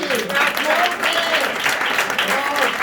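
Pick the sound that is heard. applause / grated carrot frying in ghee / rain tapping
applause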